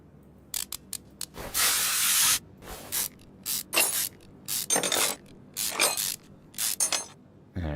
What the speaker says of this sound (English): So we gotta take this drive shaft off